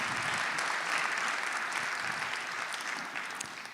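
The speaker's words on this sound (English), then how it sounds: "let's give him a round of applause" Steady audience applause at a musical instrument competition's final concert, a dense wash of clapping that holds even and fades slightly near the end, with no voices over it.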